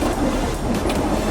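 Great Smoky Mountain Railroad excursion train rolling along on a fall foliage trip, wheels clattering in a quick, uneven clickety-clack close by, fairly loud and steady with no talking.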